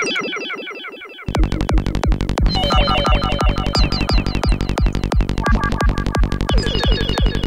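A synthesized hi-tech darkpsy computer sound plays loud and alone, a fast pulsing stream of bright electronic blips and a driving repeated low beat, with the pattern shifting as it goes.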